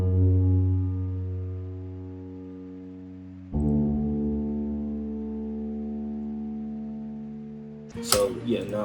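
Low sustained piano notes serve as a bass line in an Afrobeat production, two long held tones with stacked harmonics, loud and clean, followed by a brief bright burst at the end.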